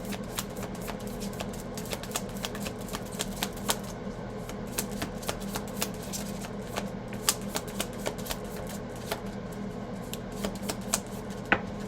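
Playing cards, apparently a tarot deck, are shuffled and handled in a steady run of quick riffling clicks and snaps, fairly close and continuous, over a low background hum.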